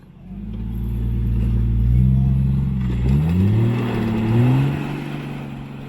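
A Jeep Cherokee's engine labours up a rutted off-road grade on the Bailey Canyon trail while being towed. It's a loud, close drone whose pitch rises and dips as revs surge under strain.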